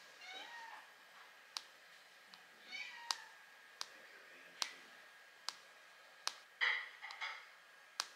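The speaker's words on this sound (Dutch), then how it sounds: "Wie weet wie deze kat is?" A domestic cat meows several times, soft and close in a quiet room, with short drawn-out cries between sharp clicking or tapping sounds at irregular intervals; no talking over it.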